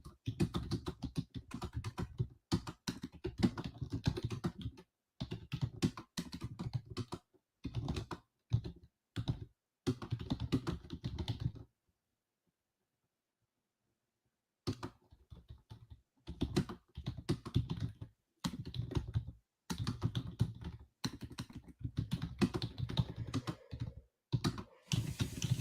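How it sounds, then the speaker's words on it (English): Someone types at a trading desk, the computer keyboard clattering in quick, irregular bursts of keystrokes with one silent pause of a few seconds midway. "I'm typing right now as if I'm in it."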